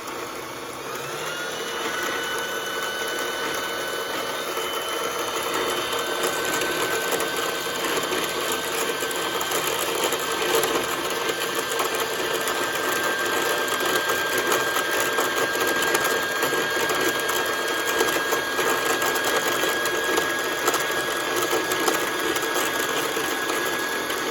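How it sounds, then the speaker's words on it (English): A sewing machine winds thread onto a bobbin, giving a steady, close mechanical whir with a high whine. It runs continuously at an even level for the whole stretch, with no talking. "As soon as it starts winding, I'm going to trim it, and it will stop automatically."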